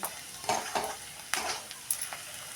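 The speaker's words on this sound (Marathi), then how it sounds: "हे एक मिनिटभर असं परतून घेऊया" Onions sautéing with garlic chutney and salt in a pan, a faint sizzle broken by a few soft scrapes of a spoon stirring. It is quiet and brief, with no speech.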